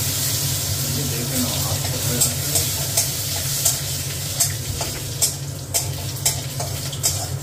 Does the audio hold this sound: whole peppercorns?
yes